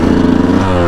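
A Yamaha YZ125 two-stroke dirt bike is ridden along a trail loop, its engine holding a loud, close, steady buzzing drone with slight throttle wavering throughout.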